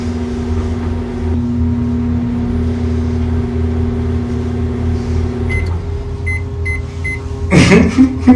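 A steady mechanical hum runs throughout, like a microwave oven operating, with a few short beeps near the end and a brief louder rustle.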